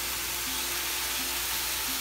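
Tortillas frying in a pan for chicken quesadillas with bacon, giving a steady, even sizzle throughout with a faint repeating tone beneath it and no talking.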